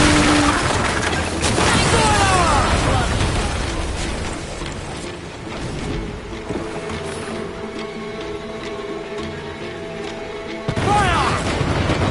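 Naval combat aboard a sailing ship in Assassin's Creed Black Flag, with loud booming mortar blasts and creaking wooden mechanisms over rushing water, heavy bursts near the start and again near the end.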